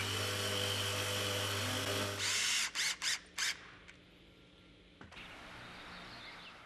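Edge banding machine running as a heated blower warms pre-glued edge tape and presses it onto a chipboard edge: a steady loud mechanical whir cuts off, followed by three short bursts, a quiet stretch, then a hissing blow.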